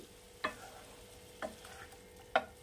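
A spoon stirs a one-pot chicken with spring onions in a pan, giving three separate scraping strokes about a second apart over a soft steady sizzle, with no voices.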